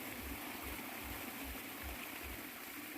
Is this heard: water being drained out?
yes